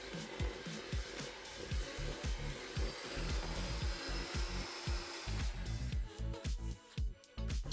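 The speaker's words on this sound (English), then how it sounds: "Now, add in some roasted red peppers, continue to mix." Cream cheese and roasted red pepper filling being beaten in a bowl, a steady run of rhythmic mixing thumps and scraping that stays close and fairly loud before easing off near the end.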